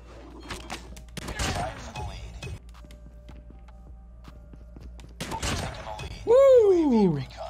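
Shotgun blasts in the mobile shooter Call of Duty Mobile: a few sharp, quick shots with short pauses between them, mixed with footsteps and game effects, and a rising-and-falling whistle-like tone near the end.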